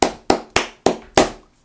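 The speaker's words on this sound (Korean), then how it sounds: "자, 여러분들 엄청나게 고생했으니까 박수 한번 치겠습니다." A teacher claps five times in a math classroom, sharp evenly spaced claps about a third of a second apart, close and loud with no talking.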